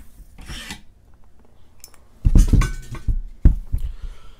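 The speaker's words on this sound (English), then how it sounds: "Now we're going to pull the bolt carrier group out." Bolt carrier group sliding out of a SCAR 16S rifle receiver, close metallic scraping and rubbing in a few short bursts with quiet gaps between.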